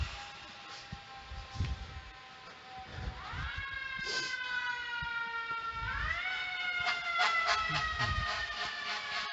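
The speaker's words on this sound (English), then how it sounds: "there's a very loud fire engine in my vicinity" On a city street, a fire engine siren wails through repeated rising and falling sweeps, loud and close, with a deep horn-like blast near the end over traffic noise.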